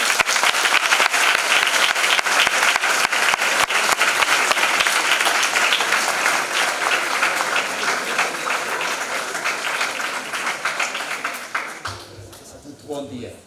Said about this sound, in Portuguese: peço-vos uma grande salva de palmas